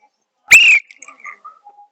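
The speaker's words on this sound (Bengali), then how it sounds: "বাঁশি বাজার সাথে সাথে আমার টাইমিং চালু হবে।" One sharp, loud whistle blast starts a ball game at a lively outdoor event, a bright piercing tone under a second long, trailed by faint scattered chirpy noises.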